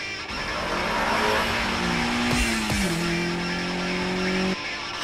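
A race car drifts in an anime mountain-pass battle, its engine roaring loudly and steadily throughout while a sustained tire squeal slides in pitch partway through. No voices are heard.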